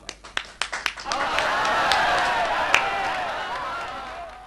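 Audience applause welcoming poet Sitara Noor onto the stage at a Punjabi poetry gathering: a few scattered claps swell into steady, full crowd clapping that carries on to the end.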